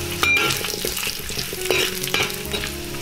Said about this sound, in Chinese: 重新起锅，加入少许花生油，把姜片放进来爆香